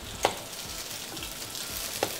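Egg-dipped bread fries in butter in a hot pan, giving a continuous soft sizzle up close, with two brief metallic clinks from a utensil and no speech.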